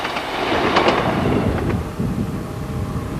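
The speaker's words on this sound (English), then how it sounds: "The sight of steam locos forging their way through this rugged and impressive landscape is a fine sight." Steam locomotive hauling a train on the Settle to Carlisle line through rugged hill country, a continuous loud rolling rumble with faint rhythmic chuffing and wheel noise, steady throughout.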